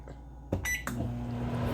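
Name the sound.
microwave oven running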